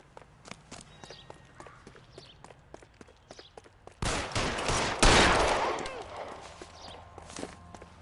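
Gunfire in LA Noire: scattered soft footsteps and faint distant clicks, then a sudden loud burst of close shots with a heavy blast that slowly decays into echoing rumble, followed by quieter scattered taps.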